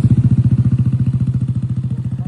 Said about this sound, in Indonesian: Kepolisian Gorontalo menggelar razia kendaraan yang menggunakan knalpot brong.